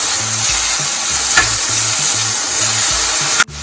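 Fenugreek seeds and boiled garlic with asafoetida frying in oil, a loud close sizzle carrying a repeated low rhythmic thumping of stirring, ending in a sharp knock.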